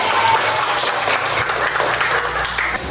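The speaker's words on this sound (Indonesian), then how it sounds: "Tepuk tangan buat kita semua." Schoolchildren clapping in a fifth-grade classroom at the end of a lesson, a short, lively burst of hand claps close by and fairly loud.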